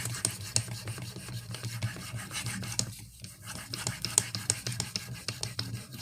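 A Benchmade 13940 knife blade rasps across a Venev OCB 800 grit stone in steady, close strokes, with a brief pause near the middle before the rubbing resumes.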